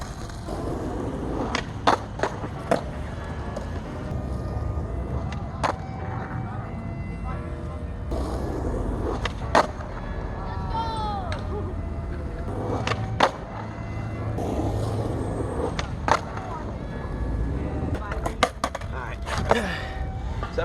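A skateboarder lands a back 180 followed by a fakie back 180, the wheels rolling steadily while sharp board clacks and slaps punctuate the ride at irregular intervals, close and loud over background chatter.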